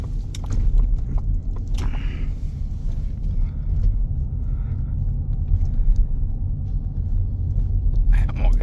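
A 2022 Lincoln Navigator L Reserve rolls back into a garage, its steady low engine rumble close and continuous throughout, with a few faint clicks and a brief soft hiss near the end.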